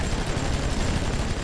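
Cartoon gunfire from a children's animated show rattles in a loud, dense, continuous burst, like rapid machine-gun shots fired close up.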